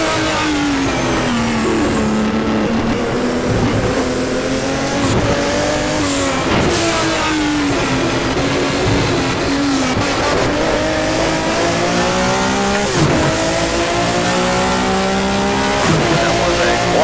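BMW M1 race car in rFactor runs a lap, its engine revving up and down through gear changes with a loud steady roar and occasional shifts, under faint commentary.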